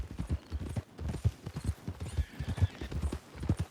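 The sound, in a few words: horse hooves clip-clop in Red Dead Redemption II video game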